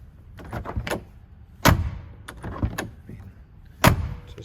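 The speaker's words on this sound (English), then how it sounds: "I'll open and close both doors here too." Doors of a 1965 Corvette are opened and shut in turn, with several sharp close slams and softer latch clicks and creaks in between, without talk.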